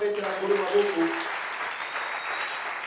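A church congregation bursts into applause and cheering for the Lord, a broad steady wash of clapping that carries through the whole stretch, with a few voices calling out over it early on.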